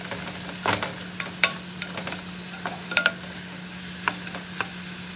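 Mushrooms cooking in a pan give off a low, continuous sizzle, broken by scattered sharp clicks and scrapes of a utensil stirring. The sound is close and moderate in level, with no talking.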